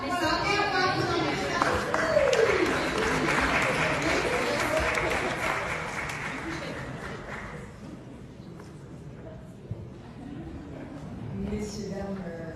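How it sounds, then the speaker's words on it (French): Audience applause for a woman award winner at an international francophone diaspora summit, a broad wash of clapping that swells early, holds, then thins out after several seconds into scattered claps and murmuring voices. "Et on va applaudir."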